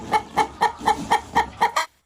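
A hen clucks on a countryside farm, about eight evenly spaced, loud and close clucks in a steady rhythm, ending abruptly with no voices.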